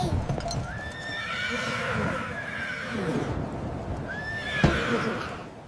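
Horses whinny twice, a long neigh early and another near the end, over a busy, steady background of hoof clatter and movement.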